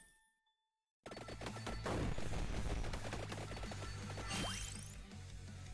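Wave cannon weapon in Vampire Survivors firing in a dense, continuous barrage of crackling blasts after a brief silence, with rising sweeping tones near the end, loud and without talk.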